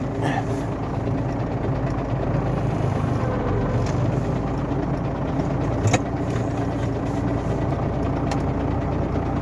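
A tractor engine runs slowly and steadily as it creeps into position on a wheat field to spread ammonium nitrate fertilizer, a continuous low rumble with a few faint knocks.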